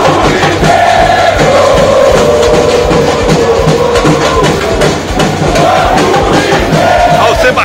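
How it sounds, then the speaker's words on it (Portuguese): Football supporters at a Brazilian amateur quarter-final match between E.C. Ribeiro Junqueira and E.C. Laranjal keep up steady, loud crowd noise with sustained chanting and cheering throughout. "a torcida não para de incentivar"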